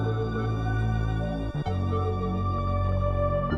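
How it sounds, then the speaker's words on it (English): A reversed synth run from a Splice sample swells in a series of backward-rising bright tones over sustained low notes, with a brief dropout near the middle, then continues loud and steady with no one speaking. "So I found this run from Splice and reversed it to sound like this"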